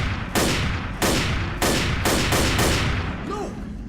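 Rapid bursts of gunfire in the Left 4 Dead video game, loud and close, arriving in roughly six sharp volleys over a few seconds, followed by a fainter tonal game sound at the end.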